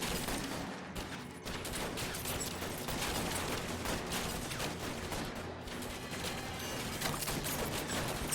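Gunfire in the video game L.A. Noire: sustained rapid bursts of shots with dense overlapping cracks and mechanical clatter, loud and continuous with no talk.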